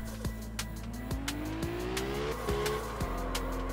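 Tires squeal and skid as a drifting car spins out in the Absolute Drift racing game, the engine note rising and falling with sharp revving spikes, loud and alone.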